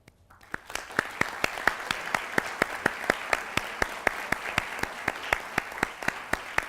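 An audience at a Heart Day university health event applauds in steady, rhythmic unison claps, a regular beat of sharp hand claps rising from a quiet start and continuing evenly.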